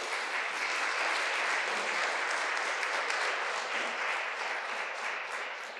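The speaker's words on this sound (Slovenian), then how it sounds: "Janošu Ježovniku en aplavz, prosim." Sustained applause from a large audience at the Slovenian Word and Sign of the Year 2023 announcement, a thick continuous wash of clapping that holds steady and fades slightly toward the end.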